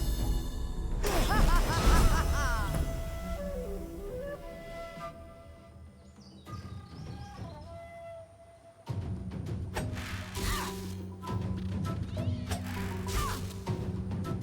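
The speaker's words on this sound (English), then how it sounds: "The cat actually makes sounds even if it's undead." An undead cat in Divinity: Original Sin II meows and yowls among crashing combat impacts, clanks and layered game sound effects, loud and busy throughout with a brief quieter stretch in the middle.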